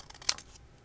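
Scissors make one crisp snip through a craft project of beads and buttons, a short close cut standing alone against quiet background.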